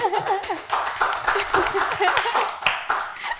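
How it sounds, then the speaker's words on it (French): Clapping from a small audience, a light patter of hands with spoken voices and a bit of laughter running over it. "Applaudissements."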